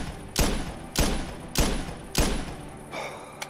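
Four evenly spaced, booming rifle shots ring out from a .223 AR at a target range in the hunting game theHunter Classic. Each report is sharp and heavy and decays quickly, followed by a faint small click near the end.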